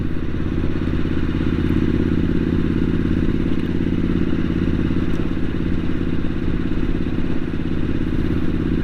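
A Triumph Street Scrambler 900 riding on a cold, clear New Year's Day, a steady loud low engine drone with rushing wind noise held close throughout, no talk heard.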